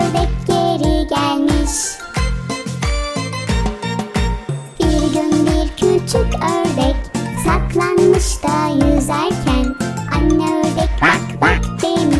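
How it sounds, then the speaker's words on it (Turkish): Mother duck quacks sound again and again over a bouncy, jingly Turkish children's song, loud and rhythmic throughout. "Anne ördek bak bak demiş"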